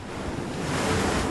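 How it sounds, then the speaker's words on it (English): Ocean waves crash against rocky tide pools at Channel Islands National Park, a loud, close, continuous roar of surf with wind buffeting the microphone. "half land, half liquid, battered by the waves"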